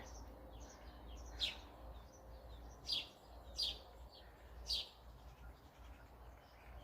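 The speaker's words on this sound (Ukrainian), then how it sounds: "І шпаки на горісі." Starlings perched in a walnut tree in a village garden give four or five brief, thin chirping calls spaced a second or so apart, faint and somewhat distant over a low steady rumble.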